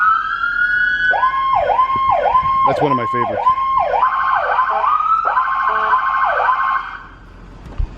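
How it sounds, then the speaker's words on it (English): A police department vehicle's siren whoops in rapid, repeated wailing sweeps close by, shifting pattern midway, then cuts off abruptly; someone speaks briefly over it. "to activate the siren, they can use the horn"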